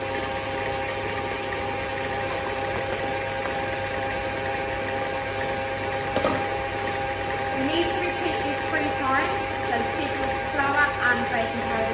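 An electric mixer beats lemon drizzle cake batter in a bowl, a steady mechanical whir with humming tones that runs throughout while a person talks over it.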